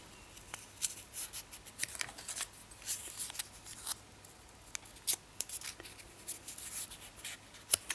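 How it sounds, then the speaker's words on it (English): Light papery rustling and soft creasing as designer series paper ovals are folded loosely in half at a craft table, a steady run of quiet scratchy handling sounds with no talking. "you need to fold the ovals in half, just loosely."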